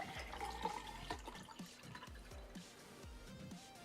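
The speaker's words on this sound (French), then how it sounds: "on va mettre de l'eau froide. De la cristalline." Cold Cristaline bottled water poured from the bottle into a glass: a steady run of rhythmic, gulping glugs as the liquid splashes and fills, close and fairly soft.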